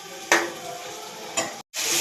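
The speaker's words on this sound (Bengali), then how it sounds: "ততক্ষণ আমি মশলাটাকে কষিয়ে নেব" A spiced tomato masala sautéing in a pan, with two sharp scraping stir strokes over a soft, close sizzle and a brief silent break near the end.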